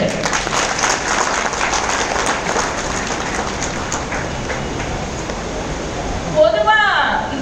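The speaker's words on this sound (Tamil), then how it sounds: "ஆனால் அதை விட சிறந்தது உங்கள் கைத்தட்டுக்கள்" Lions meeting audience breaking into loud, sustained applause, a dense roar of many hands that fades out, after which a voice begins speaking.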